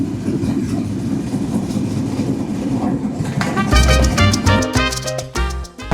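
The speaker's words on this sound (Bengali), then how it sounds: "কিছুক্ষণ পরে আমাদের ট্রেন যমুনা সেতু অতিক্রম করবে" A Padma Express passenger train from Rajshahi to Dhaka rumbles along the rails, a steady low roar giving way to louder clattering and metallic ringing as it picks up intensity approaching the Jamuna Bridge.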